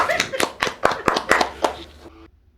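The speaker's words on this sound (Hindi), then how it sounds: "कुक्कू ठोको ताली" A brief burst of hand clapping, around eight to ten sharp claps in quick irregular rhythm, close and fairly loud, with light voices mixed in before it stops abruptly.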